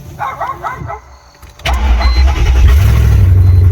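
A Mercedes car engine cranks with a few whirring turns, then catches and roars into a loud, steady idle that sounds in need of exhaust work.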